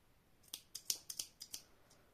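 Scissors snipping through light blue crochet yarn, about seven quick, crisp cuts in a short irregular run, close and quiet against near silence.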